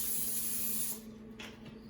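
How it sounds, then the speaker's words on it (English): Vegetable cooking spray hisses from an aerosol can onto a cookie sheet in a home kitchen, one steady close spray burst lasting about a second, then a quieter room with a soft rustle. "Spraying it with a little vegetable spray."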